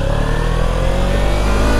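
A 300 motorcycle engine droning loudly and steadily while riding, a close continuous mid-pitched hum with slight rising tone, no speech.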